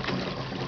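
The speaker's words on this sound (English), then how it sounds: "You hear the downpipe sort of bubbling a bit." Heavy rainwater rushes down a downpipe into a large drain pit, giving a steady, dense, close-up bubbling wash that runs the whole short moment.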